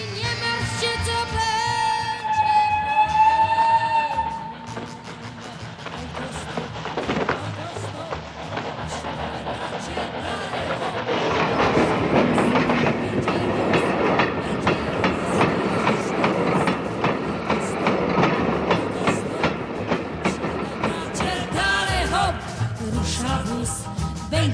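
A train rolls along rails with a steady rhythmic clatter, loud and sustained for most of the stretch, under background music and some talk.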